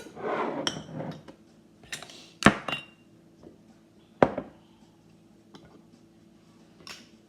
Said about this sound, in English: take your flats, put them on top of your jars